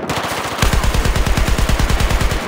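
Rapid automatic gunfire in Battlefield 4 rattles loud and close in a steady, evenly spaced burst of sharp shots that picks up strength partway through, with no voices over it.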